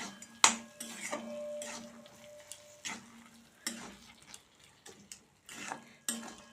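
Ground poppy seed and onion paste is stirred into bathua greens in a pan, giving quiet, intermittent clinks and scrapes of a utensil against the metal pan.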